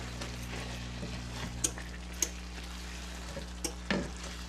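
Two 10-ounce bags of fresh spinach wilting down in a pan, giving a low steady sizzle with a few sharp clicks and scrapes of stirring scattered through it.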